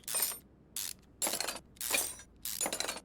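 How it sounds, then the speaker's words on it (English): Rusty oil pan bolts being removed in the Car Mechanic Simulator 2021 video game: five short, harsh, bright bursts of tool noise separated by brief silences, loud and close, with no talking. "Now the oil pan has some rusty bolts on it, so we're going to go ahead and remove that"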